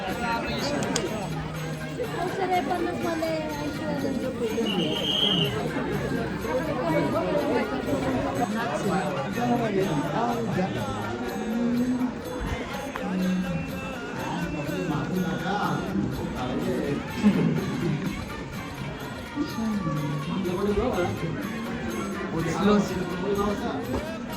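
Devotees waiting for darshan at a temple near Pune fill the space with a steady murmur of overlapping chatter, with nearby voices talking over the continuous background babble.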